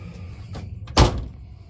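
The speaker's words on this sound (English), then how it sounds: "This does have the Viper alarm system, as you can see there, with the power door locks" Power door locks on a restored 1972 Datsun 240Z fitted with a Viper alarm system: a couple of soft clicks followed by one loud, sharp mechanical clunk as the locks actuate, close and alone.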